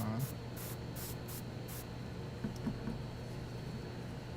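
An Infinity airbrush spraying paint onto Warhammer 40k Space Marine miniatures, five quick soft hissing bursts in a row, then a low steady hum with faint clicks, quiet and close.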